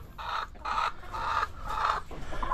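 Chickens in a coop give a short series of repeated clucks, four or five nasal calls at an even pace over a low background hum.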